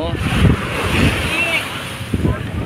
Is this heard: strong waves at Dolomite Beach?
yes